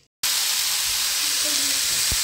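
Mixed vegetables including mushrooms, asparagus, baby corn, pepper and carrot fry in a pan or wok, giving a loud, steady sizzling hiss that runs throughout after an abrupt start, with one brief knock near the end.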